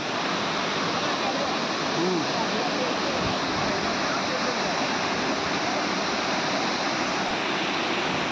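A monsoon-swollen waterfall at Daringbadi roars as a loud, continuous broadband rush of heavy falling water, close and unbroken throughout.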